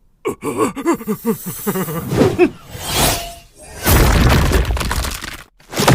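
A heavy crash and shattering burst as a palace pillar is slashed and smashed, with sharp impacts and a swooshing rush of debris after a breathy, pulsing buildup.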